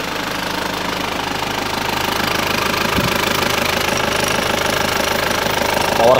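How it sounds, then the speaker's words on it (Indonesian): Isuzu Panther diesel engine running on a cold start, a loud steady rumble with rapid rhythmic knocking throughout, close and continuous with no talk. "Aku tinggal cobain sekali lagi sampai tes greng dengan keadaan mesin dingin."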